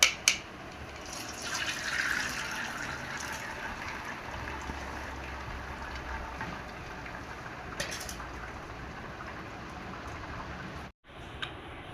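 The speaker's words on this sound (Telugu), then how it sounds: "ఇప్పుడు నీళ్ళు వంపుకున్నాము" Water drained off boiled leaves through a strainer into a bowl, a steady wet trickle and patter that runs for several seconds, with a brief dropout near the end.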